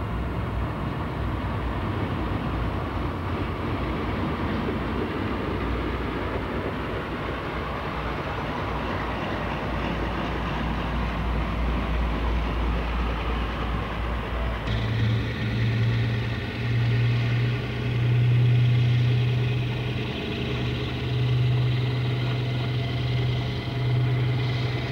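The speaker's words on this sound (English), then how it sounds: "Sister locomotive D1021 Western Cavalier at Hale." Diesel locomotive D1021 Western Cavalier at Hale, its engine a continuous loud rumble that shifts partway through to a deeper throbbing idle with a low, pulsing drone.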